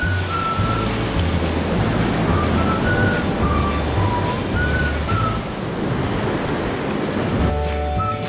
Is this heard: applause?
no